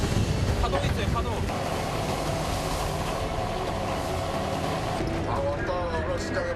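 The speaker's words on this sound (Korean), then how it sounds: "파도 있어요, 파도." Sea waves wash around a fishing boat rocking on rough water while it sets octopus pots, a steady loud roar of surf and wind noise with people talking over it.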